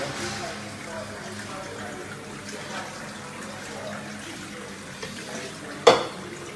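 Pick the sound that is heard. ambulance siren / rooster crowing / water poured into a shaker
water poured into a shaker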